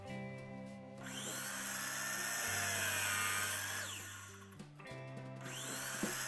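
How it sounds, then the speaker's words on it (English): A power tool cuts aluminum pieces to size for homemade snare drum lugs, giving a loud, sustained whining cut that shifts pitch, stops briefly, then starts again close by. "here I'm cutting down each one of these aluminum pieces to size"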